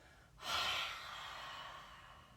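One forceful exhaled breath, a sudden loud whoosh that fades into a long airy trail, taken during a children's yoga fire-breathing exercise.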